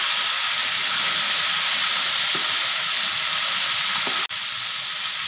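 Chicken pieces coated in KFC-style seasoned flour fry in hot oil with a steady, close bubbling sizzle and hiss throughout, broken by a couple of faint clinks and one brief dip near the end.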